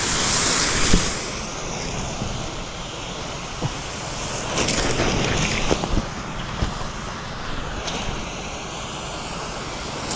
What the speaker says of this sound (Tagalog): pinaandar na na yung makina ng ano, pampatubig